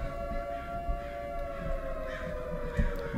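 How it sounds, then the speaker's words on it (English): A siren blares as one steady, droning tone with layered harmonics, continuous for the whole stretch and sliding slightly lower, over a low, rumbling background. "Why is there a siren blaring?"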